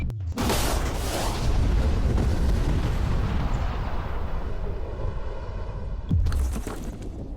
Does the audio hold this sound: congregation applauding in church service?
no